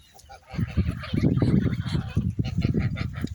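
Muscovy ducks call in a busy backyard flock, a run of loud, overlapping hoarse hisses and honks close by, while someone speaks faintly in the background.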